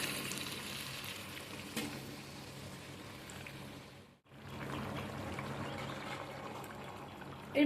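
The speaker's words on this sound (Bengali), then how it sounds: "এইবারে আমি একটু গরম জল দিয়ে দিলাম" Hot water poured into a pan of jackfruit curry cooked with fat, a steady close pour and sizzle that breaks off briefly midway, then resumes just as steadily.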